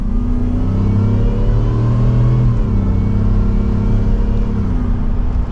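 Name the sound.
Ford F-150 Shelby pickup engine accelerating in manual mode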